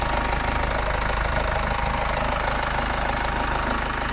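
A SsangYong Korando chain-driven engine idles steadily and close by, a continuous even rumble with a faint knocking texture and no talk over it.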